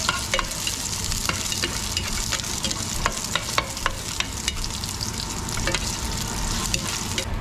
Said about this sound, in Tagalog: maggigisa muna ako ng bawang at itong luya para medyo mabango-bango